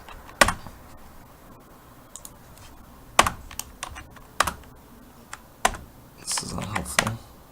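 Rapid clicking of computer keyboard keys while working in a PowerShell command window: irregular bursts of close, crisp keystrokes separated by short pauses, with a quicker flurry near the end.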